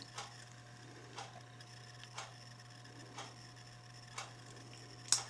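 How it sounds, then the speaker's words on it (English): Reamer turned by hand in a 1911 pistol frame clamped in a vise, giving sharp metallic ticks about once a second over a steady low hum in a quiet room. "You put your frame into a vise and you gently insert the reamer in there and you turn clockwise."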